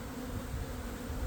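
Dense, steady buzzing of many honey bees crowding the fronts of nucleus hives, a close, continuous drone with no talk.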